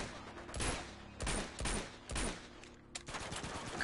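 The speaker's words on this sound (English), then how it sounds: "I hear distant gunfire." Bursts of gunfire crackle in several rapid volleys in the video game Uncharted 2: Among Thieves, each lasting under a second, with short gaps between them, sounding somewhat distant.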